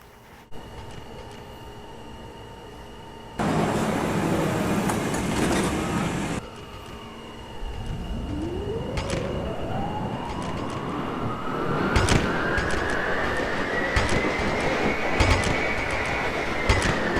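A simulated New York City subway train in a Roblox game hums along, then a rising motor whine climbs in pitch as it accelerates, with a steady loud drone of running throughout.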